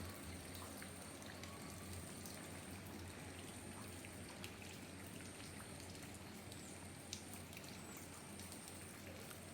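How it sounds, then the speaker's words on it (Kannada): Steady rain falling on a foggy morning at a hillside estate resort, a soft even wash of drops heard from a distance, faint and continuous with no voices. "ಗಂಟೆ ಫಾಗಿದೆ ಮಳೆ ಕೂಡ ಬರ್ತಾ ಉಂಟು"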